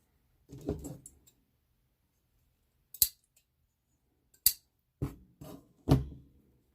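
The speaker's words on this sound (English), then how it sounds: "And I'll just cut out the excess." Scissors snip excess yarn after a knot is tied while sewing a fabric face mask: a soft rustle, then four sharp, close snips spaced a second or so apart in otherwise quiet surroundings.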